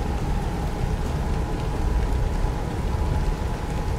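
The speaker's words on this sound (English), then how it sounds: "That's probably because of the cold rain." Steady cold rain in American Truck Simulator with a Ford F-350 XL Crewcab, a constant hiss of drops pattering on the truck with a low rumbling undertone, even and unbroken.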